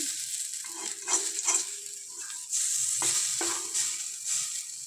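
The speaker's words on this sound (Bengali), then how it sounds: "দুটো বড়া ভাজতে আছে বাকি ছিল সেগুলোকে আমি ভেজে নিচ্ছি" Red lentil fritters frying in oil in a pan, giving a continuous faint sizzle with occasional stirring clatter and soft bubbling bursts, close by with no talk.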